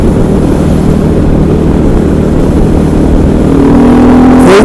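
A KTM 500 EXC converted to supermoto runs on a cold, wet, rainy day, its engine a steady loud drone close to the microphone that rises in pitch near the end.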